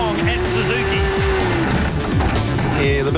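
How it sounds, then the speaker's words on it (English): A Honda 1000cc superbike engine screams at high revs during a superbike race on a street circuit, the pitch sweeping and falling repeatedly under continuous commentary and loud, steady engine noise. "the big Honda done a few extra revs there as she went in"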